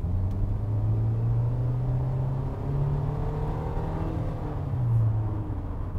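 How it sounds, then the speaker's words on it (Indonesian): A compact SUV in sport driving mode pulls away at high engine revs. The engine makes a steady, close rumbling drone whose pitch rises and falls slightly as it accelerates, with no talk. "kalau di sport ini dia langsung ngasih putaran mesin yang cukup tinggi tuh"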